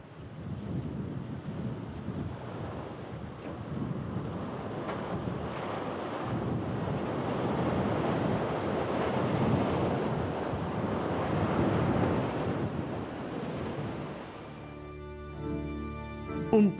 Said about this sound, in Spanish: el océano Atlántico adorna las playas con sus blancas olas.